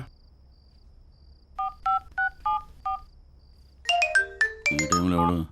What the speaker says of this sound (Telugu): జర ఫోన్ చేయరా